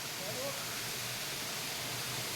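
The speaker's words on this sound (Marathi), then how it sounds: "इतका छान असा हा धबधबा आहे" Forceful waterfall at a remote, deserted spot, its water plunging hard and producing a steady, dense broadband roar that runs unbroken from start to finish, loud and continuous with no talk over it.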